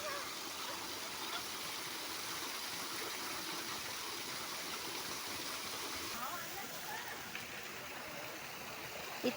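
Water of the first fall at Pilihatha Ella waterfall rushing in a steady, loud roar that fills the whole stretch without a break, with no clear talk standing out.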